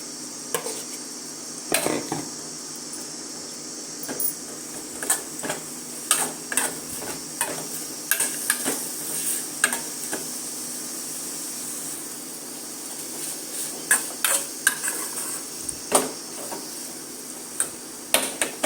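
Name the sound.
boiled ivy gourd being added to a pan and stirred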